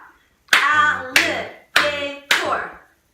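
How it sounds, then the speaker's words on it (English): Four sharp hand claps ring out one after another at an even pace, each with a quick fading tail, beating out the syllables of a word in a classroom lesson; no one speaks. "let's clap it out"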